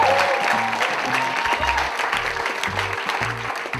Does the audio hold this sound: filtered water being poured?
no